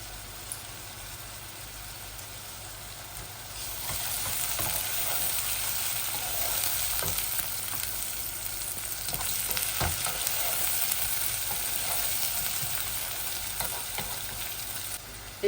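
Onion and egg sizzle steadily in a pan of a Bengali egg bhuna, a broad continuous frying hiss that swells louder after a few seconds with faint stirring scrapes.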